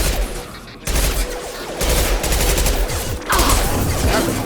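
A machine pistol in Mass Effect fires in rapid, loud bursts close at hand, with short pauses between volleys amid game combat noise.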